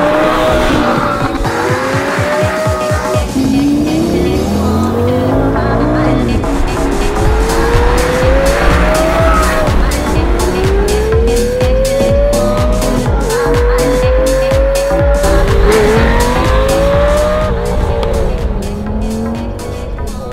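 A high-revving Lamborghini Gallardo V10 engine (2005) screams up and down through the gears, with repeated throttle blips, downshift crackles and occasional tire squeal, loud and close throughout.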